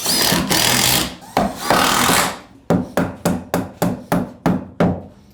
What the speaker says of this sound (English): So whenever you've got a hole in a structural fastener, fill it with a structural screw or a nail.